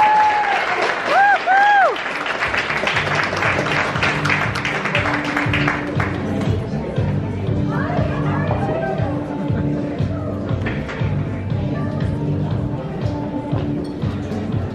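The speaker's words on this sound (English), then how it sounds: "So a huge round of applause." A room of party guests at a Louis Vuitton holiday party in Toronto applauding an employee's 15-year service pin, sustained dense clapping with a few cheers, while a voice speaks briefly at the start.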